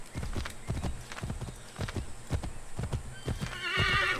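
A horse in Assassin's Creed III clip-clops along in a brisk, regular hoofbeat rhythm close by, then lets out a loud whinny near the end.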